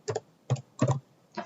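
Fingers tap a computer keyboard in four short bursts of keystrokes, close and clear, with quiet pauses in between and no voices.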